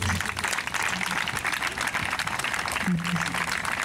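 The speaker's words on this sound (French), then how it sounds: "Nous poussons acclamer très fort Méliki Sombe." Mourners at a funeral gathering applaud together, a dense steady patter of clapping throughout with a voice briefly heard over it.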